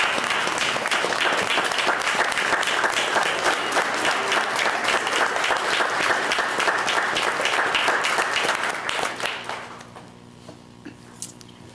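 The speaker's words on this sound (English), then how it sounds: "please give our E911 professionals a round of applause" A courtroom audience at a county Board of Commissioners meeting claps loudly and continuously in honour of E911 professionals for about nine seconds before the applause fades into a quiet room.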